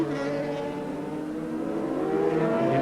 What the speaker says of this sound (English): side by side as they go into the hairpin. Whittam left his braking later. Through the chicane, Morrison, Whittam.